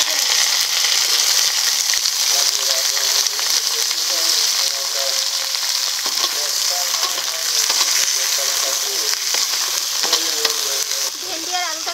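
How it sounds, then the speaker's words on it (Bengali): Okra and potato pieces fry in hot mustard oil in a wok, giving a steady, close crackling sizzle with occasional stirring scrapes throughout, a faint voice briefly underneath. "এই তেলে ভেন্ডি ও আলুগুলোকে ভেজে নেব।"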